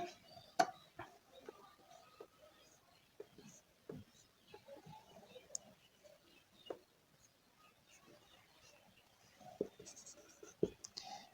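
A pen scratches across paper while someone works through a handwritten percentage math problem, with faint, irregular strokes and small taps spread throughout and no clear talk.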